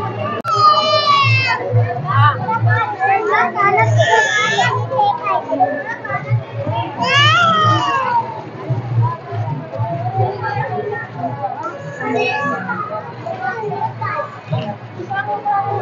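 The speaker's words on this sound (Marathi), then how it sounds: "बघू शकतो मी जत्रा जाम गर्दी आहे, गर्दी असते जाम." Crowded village fair (jatra) in Kopargaon with children playing, dense chatter and high excited children's shouts and squeals close by, a loud continuous bustle with adult voices talking through it.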